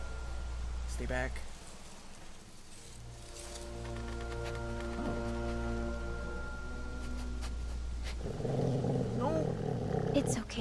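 A wolf in The Walking Dead video game gives a low, sustained growl that rumbles steadily close by, swelling into a louder snarl toward the end, with a brief sharp sound early on.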